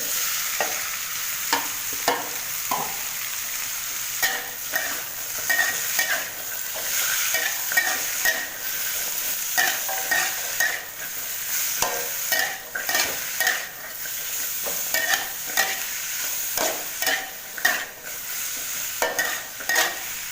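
Squid stir-fries with stink beans and shrimp paste in a hot pan, sizzling steadily under repeated scraping and tossing strokes of a spatula, close up and with no talking.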